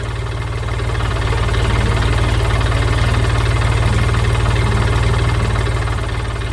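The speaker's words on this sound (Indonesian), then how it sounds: "Traktor hijau sedang mengangkut truk penuh bahan pertanian yang berwarna-warni di tengah pertanian yang hijau dan penuh semangat." A green cartoon tractor hauling a truck full of colourful farm produce runs with a steady, loud, low engine drone and rhythmic knocking throughout, with no talking.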